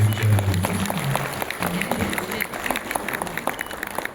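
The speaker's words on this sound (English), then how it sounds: "To loud round of applause once again, ladies and gentlemen." An audience at a buyer-seller meet in Shillong claps in a dense, sustained round of applause, a steady patter of many hands heard fairly close, with a low murmur under it.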